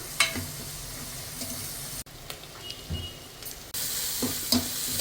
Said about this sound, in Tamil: வெங்காயம், சின்ன வெங்காயம், இஞ்சி பூண்டு எல்லாம் போட்டு நல்லா பச்சை மிளகு, கருவேப்பிலை எல்லாம் போட்டு நல்லா வணங்கட்டும்